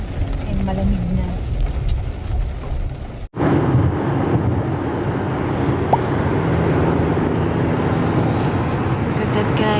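Road traffic rumbles steadily from inside a moving car, with a continuous low roar of engines and tires, a sharp break partway through, then the hum carries on evenly.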